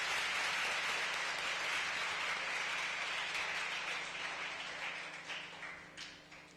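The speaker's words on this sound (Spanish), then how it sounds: "démosle un aplauso muy fuerte a Lucía por acompañarnos." Broad clapping from an audience for a poet after a reading at a discussion event, steady at first and then thinning and fading toward the end.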